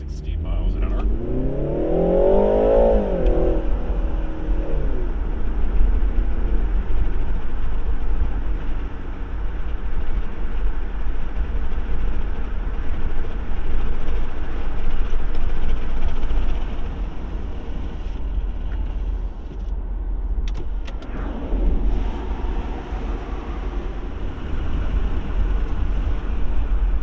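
A 2022 BMW 330i full-size rental car pulls away from rest and accelerates to 60 km/h, its engine note rising in a clear sweep near the start, then a steady loud road and engine drone, with someone talking over it.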